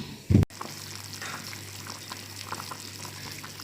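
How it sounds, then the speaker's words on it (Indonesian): Pork bones, a mix of ribs and feet, simmer in a pot of water in a home kitchen, a soft, steady bubbling that runs quietly throughout after a brief knock near the start. "Pertama-tama kita rebus dulu balung babinya."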